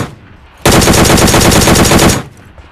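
Sustained automatic gunfire from PUBG Mobile as players get knocked down, a loud dense burst of rapid shots lasting about one and a half seconds after a quiet lead-in, then cutting off.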